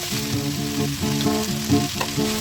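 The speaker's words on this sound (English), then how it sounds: "So we just keep on stirring and cooking it, guys, for a few minutes." Peppers and yellow and red zucchini for jerk vegetables stir-fry over high heat, a steady, close sizzle running throughout with a few brief stirring surges and faint tonal sounds underneath.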